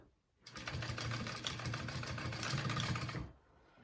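A sewing machine bastes a main fabric panel in place for a Wonder Bag, running in one steady, continuous stretch of stitching for about three seconds, close and clear with no talking.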